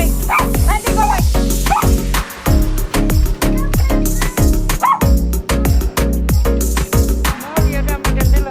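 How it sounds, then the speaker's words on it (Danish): A small dog barks in a home, loud and close, in a rapid string of sharp yaps and bow-wows with brief gaps, continuing throughout. "Nå, vi er der med den lille hund."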